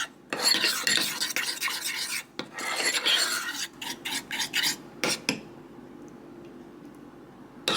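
A spoon scrapes and stirs honey into a cornbread topping mixture in a bowl, giving gritty rasping strokes, then a few short separate scrapes and taps before fading into quiet.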